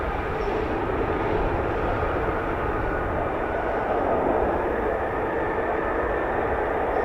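A Royal Navy F-35B stealth fighter taxis with a steady, broadband engine roar heard from a distance, constant in level throughout with no speech.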